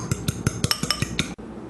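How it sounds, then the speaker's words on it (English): A single egg being beaten with a fork in a bowl for Afghan khajoor cookie dough: about ten quick, evenly spaced clinks of metal on the dish, close and alone, stopping abruptly. "I'm just gonna mix the egg very well before I add it to the mixture"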